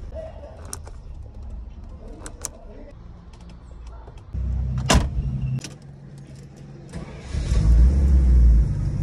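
A Mercedes-Benz 350 SE, checked as a restoration base, has keys handled and clicks before its engine cranks and catches, then settles into a steady low running rumble close by.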